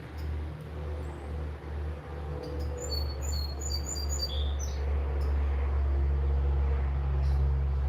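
Several high bird chirps and tweets in short bursts, set against a steady low rumble of passing traffic outdoors.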